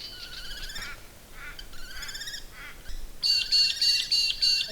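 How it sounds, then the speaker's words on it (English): Songs of wild birds from around a home area, several calls overlapping in bursts, with a steadier, brighter whistling song taking over near the end; clear and fairly close, with no talking. "I made a point of recording the birds around our area"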